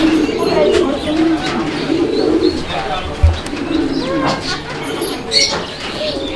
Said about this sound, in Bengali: দুটো কবুতর দেখেন একদম ফুলের মতো সাজানো একটা পেয়ার